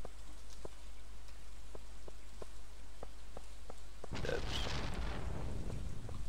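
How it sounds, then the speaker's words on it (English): Steady rain pours down in the Stardew Valley farming game, a dense even hiss with scattered drop ticks, then a brighter, louder splash of water sound rises near the end. "Ah, nice rainy day."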